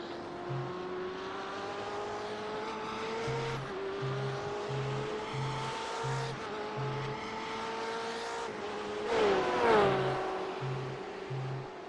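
BMW race cars lapping Okayama in an iRacing esports event, a steady high engine drone with rising and falling pitch as gears change, a louder car sweeping past near the end, with no talking.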